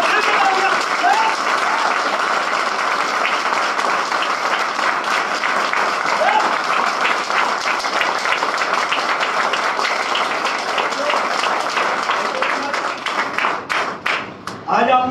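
A crowd in a hall at a grocery business launch event in Ludhiana applauds loudly and continuously for about fifteen seconds, a thick wash of clapping with voices mixed in, thinning into scattered claps near the end.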